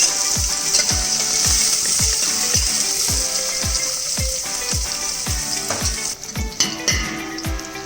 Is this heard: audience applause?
no